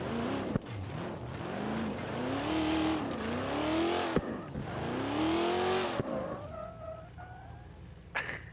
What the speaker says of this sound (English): it does good burnouts for distance